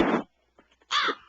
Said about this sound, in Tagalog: ba't may uwak na naman?